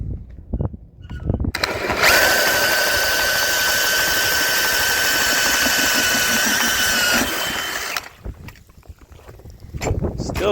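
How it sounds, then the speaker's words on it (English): A loud motorized ice auger whirs steadily for several seconds, engine droning with a high whine, then cuts off abruptly, leaving wind and faint movement. "I'll drill a hole here for you guys and show you what we got."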